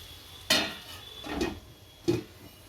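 A spoon scrapes and knocks against a pan while parval (pointed gourd) is mixed, giving three distinct clinks spaced about a second apart, fairly close and with no talking.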